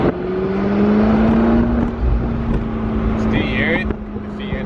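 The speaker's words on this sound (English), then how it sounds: "See here the exhaust." Exhaust of a McLaren sports car being driven on the street, a steady low engine drone with a brief higher rev flutter late on, heard from inside with someone talking over it.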